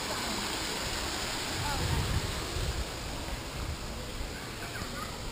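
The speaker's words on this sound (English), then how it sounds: "Here's one of the many artificial waterfalls on the property." Continuous rushing water from an artificial waterfall at a Waikiki hotel pours steadily nearby, with a low rumble briefly rising and no pauses.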